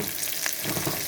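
Salisbury steak frying in a pan, giving a steady close sizzle with crackling and spitting throughout, loud and continuous with no voices.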